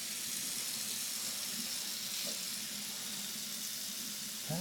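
Hot water tap running into a kitchen sink during a home inspection, a steady close hiss of flowing water that continues unbroken throughout.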